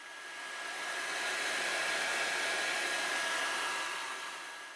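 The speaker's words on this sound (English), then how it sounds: "dry the pigment carrier off with a hairdryer" A hair dryer blows on the pigment carrier of a 1/35 scale tank model with a steady airy whoosh and a thin high whine, swelling in at the start and fading slightly at the end.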